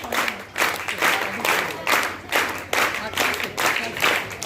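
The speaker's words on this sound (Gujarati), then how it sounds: "આપણે વીર તાળીઓથી એમને વધાવશું" Applause welcomes mothers called forward at a Pune Patidar community 36th anniversary celebration, sustained crowd clapping in rhythmic swells across the whole stretch, fairly loud and close.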